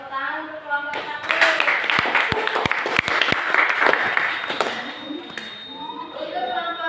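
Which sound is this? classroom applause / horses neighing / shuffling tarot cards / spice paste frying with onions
classroom applause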